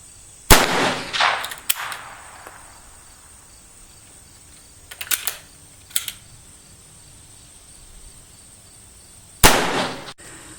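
Five sharp gunshots from a Chipmunk .22LR pistol, fired outdoors at irregular intervals. The first cracks are close together, then a long pause comes before two more and a final loud crack; each one rings briefly with no talking.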